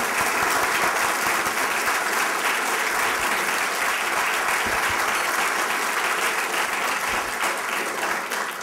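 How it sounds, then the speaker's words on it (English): Sustained audience applause closing a food safety forum Q&A session, dense and steady throughout at full strength, with no voices breaking through. "Please join me with a round of applause."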